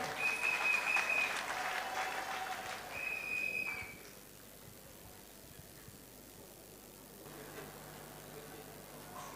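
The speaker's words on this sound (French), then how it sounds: "Nous acclamons correctement le roi." A church congregation at a jubilee service applauds to acclaim the king, steady clapping for a few seconds with a faint tone over it, then trailing off into a quiet background hum.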